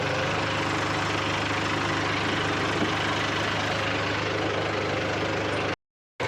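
A steady, low tractor engine idle rumbles on without change, close and continuous, then cuts out abruptly near the end.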